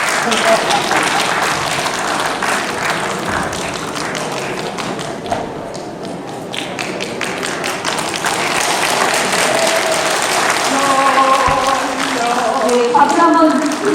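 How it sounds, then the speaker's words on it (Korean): Audience applause at a Korean Kouksundo organization's 52nd anniversary event, steady loud clapping from a large room that carries on throughout, with voices and a little singing-like tone near the end. "박수 한번 해주시기 바랍니다"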